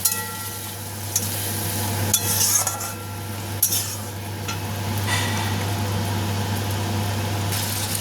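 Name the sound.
potatoes stirred and fried with spice paste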